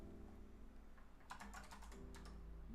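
Computer keyboard being typed on at a desk while a developer works with Docker, a burst of close, loud clicky keystrokes in quick irregular succession over a steady background hum.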